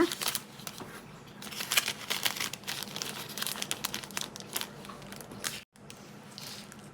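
Plastic cookie bags for cashew cookies crinkle and rustle continuously while being packed, with close, busy crumpling bursts throughout and a brief pause near the end.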